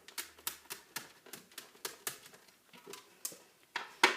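A rubber stamp pressed repeatedly onto Christmas cards, several of them worked in turn: a steady run of soft, close taps and thumps roughly two per second, ending on a louder knock.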